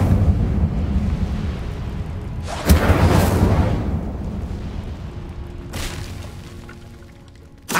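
The Incendio fire spell is cast in Hogwarts Legacy: a roaring, booming burst of flame that swells and slowly fades, then a second shorter whoosh later, over a low rumbling background.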